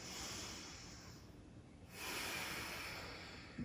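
A slow, deep breath during a yoga session: a long airy inhale, a pause, then a fuller exhale heard close and alone.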